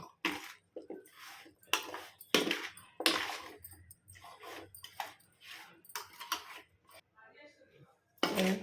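Amla pickle mixed with cooled oil in a pot, with a spoon clinking and scraping against the metal in irregular close bursts.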